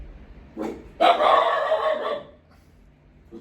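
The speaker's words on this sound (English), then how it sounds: "He's a good guard dog." A dog barks nearby: a short yip followed by one longer, harsh bark, then quiet.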